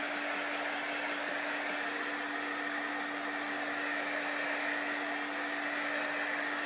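A hair dryer blows steadily and alone, drying a freshly applied layer of chalk paint in a crafting session, its constant whine holding at one even level throughout.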